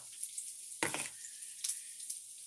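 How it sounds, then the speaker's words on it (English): Food sizzles and crackles in a hot pan, a steady hiss with a couple of louder bursts, close and fairly quiet. "that sizzling is not what we want to hear"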